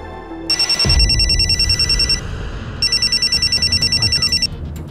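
A mobile phone rings loudly and close by in two long bursts of rapid electronic trilling separated by a short gap, with a low thump and room noise underneath.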